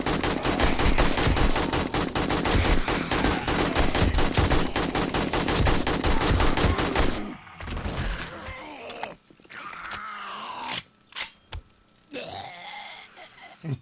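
Rapid automatic gunfire in the 7 Days to Die video game rattles loud and continuous for about seven seconds, then gives way to scattered single shots, creaks and mechanical clicks.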